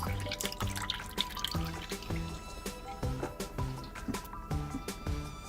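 Homemade coconut milk drips steadily down into a container below, forming a rhythmic series of close, distinct plops and splashes with faint ringing resonance.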